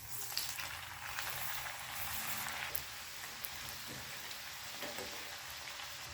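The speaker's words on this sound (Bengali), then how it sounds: "সমস্ত তৈরি করে নেওয়া ঝালপুলিগুলো এভাবে ভেজে নেব।" Cabbage jhalpuli snacks deep-frying in hot oil over a medium-high gas flame, a steady dense crackling sizzle with brief sharper pops, close and moderately quiet throughout.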